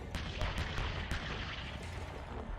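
A Bradley's Bushmaster cannon fires in a short burst of distant, muffled booming shots, a few sharp cracks over rumbling background noise.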